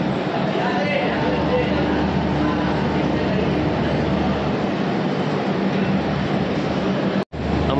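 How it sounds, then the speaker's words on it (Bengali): Platform 9 at Sealdah railway station carries a constant loud rumble of trains and crowd chatter, a dense unbroken station din that cuts out briefly near the end. "এই হলো শিয়ালদা স্টেশন প্ল্যাটফর্ম নম্বর 9।"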